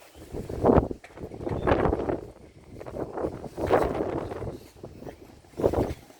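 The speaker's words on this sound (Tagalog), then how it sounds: "Lakas ng hangin." Strong wind gusts sweep across an outdoor house-framing job site in a series of loud, rumbling bursts, with calmer stretches between them and no voices.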